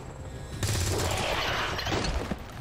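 A dense, crackling volley of gunfire in the tactical game XCOM 2 with the Long War 2 mod, a loud sustained wash of shots lasting a couple of seconds.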